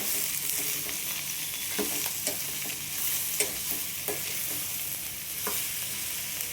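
Cucumber palya is stirred in a hot pan, a constant sizzle carrying soft, irregular scrapes and taps of the spoon, close and steady with no voices.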